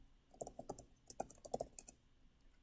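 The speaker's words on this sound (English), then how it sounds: "And let's type in." Quick bursts of typing on a computer keyboard, irregular clusters of crisp key clicks close to the mic, fairly quiet with no talking.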